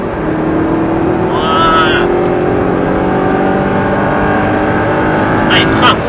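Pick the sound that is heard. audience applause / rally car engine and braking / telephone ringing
rally car engine and braking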